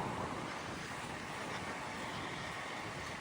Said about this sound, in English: I don't know if that wind is dropping down a bit